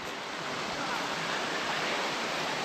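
Water sprays as a fine mist from a garden irrigation tube, a dense, even hiss that holds steady and loud for the whole stretch with no voices.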